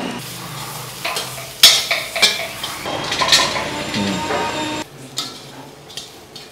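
Masala being roasted and stirred in a metal pan at a fair stall, with clinking and scraping of the utensil against the pan over a steady sizzle, close and fairly loud, with no talking.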